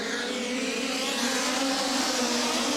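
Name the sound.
midget race cars racing on a speedway track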